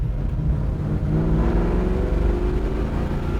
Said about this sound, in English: Tell you what, I love the exhaust on this thing. Just sounds amazing.